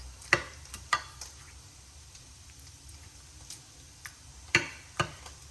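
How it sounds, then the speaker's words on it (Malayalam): A utensil stirs and mixes Kerala curry in a pan, with sharp clinks and taps against the metal at irregular intervals over a faint low simmer, close by. "നമുക്കൊന്ന് ഇളക്കി യോജിപ്പിച്ചെടുക്കാം"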